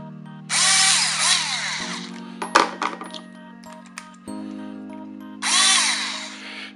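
Power drill-style deburring tool working on brass rifle cases for 5.68 TLR, two loud sustained whirring bursts at start and end with metallic clinks and handling clatter of brass between them, no talk.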